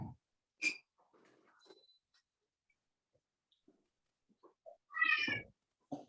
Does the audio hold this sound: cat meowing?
yes